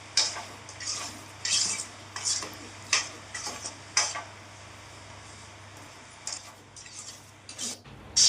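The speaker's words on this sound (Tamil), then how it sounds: "இந்த மாதிரி திக் கன்சிஸ்டன்சிக்கு கிளறிக்கிறணும்." Thick butter beans masala gravy stirred in a pan, a spoon scraping and clinking against the metal in irregular bursts, fairly close, with quiet gaps between strokes and no talking.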